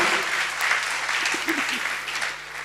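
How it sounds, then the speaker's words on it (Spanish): A church congregation claps for the Lord during a Christmas sermon, a steady, dense wash of applause lasting a couple of seconds, with a faint voice or two murmuring underneath. "Denle un fuerte aplauso al Señor"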